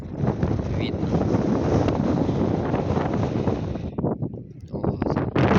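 Strong winter wind gusts into a phone microphone outdoors in Anapa, a loud rumbling buffet that fills most of the clip and briefly eases before returning, with someone talking over it.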